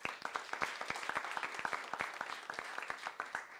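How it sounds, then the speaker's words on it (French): A small audience at a talk on Québec's helicopter industry claps for a guest, sparse distinct handclaps in an uneven rhythm, fairly quiet and close, with no voices. "j'aimerais qu'on l'applaudisse également pour sa venue"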